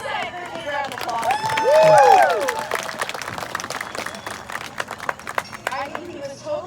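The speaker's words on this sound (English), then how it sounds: "Give Kasai a big round of applause." An audience claps at a Renaissance Faire bird show, a swell of applause near the start over a handler's talk and sharp bird calls, then fading into scattered claps and crowd murmur.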